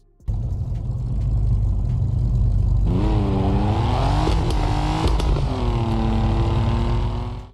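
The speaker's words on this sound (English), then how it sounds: "Japan Highway Traffic Online offers a realistic simulation of driving on Japanese highways with detailed car models and accurate traffic patterns." A car speeds along a highway in the mobile driving game Japan Highway Traffic Online. The engine roars loudly and climbs repeatedly in pitch as it accelerates through the gears, with no talk.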